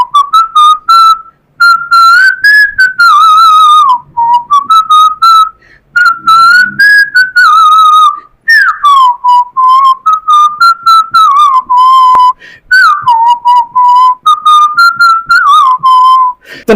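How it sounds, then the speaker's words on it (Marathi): A person whistles a song melody, loud and close, with clear sustained notes, slides and short breaths between phrases, alone without speech or accompaniment. "मी शिट्टीतून गाणं म्हणून दाखवणार"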